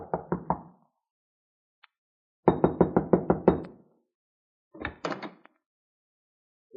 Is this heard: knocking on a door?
yes